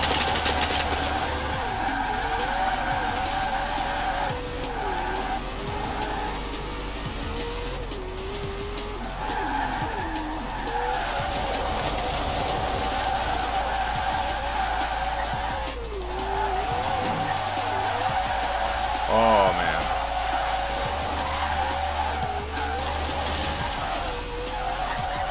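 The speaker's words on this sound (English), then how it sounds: "Let's see if we can drift the entire way there." A car drifting in Forza Horizon 4: a steady engine drone runs throughout with continuous tire skidding and squeal, loud and close, with a brief shift near the end.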